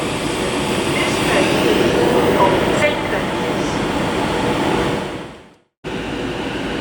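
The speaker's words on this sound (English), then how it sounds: "approaching as well now is the 11:20 Avanti West Coast service from Edinburgh to London Euston, formed of another pair of 221s" An Avanti West Coast Class 221 train rumbles through Birmingham International station, producing a loud, steady roar that fades away abruptly into a short silence before the noise returns.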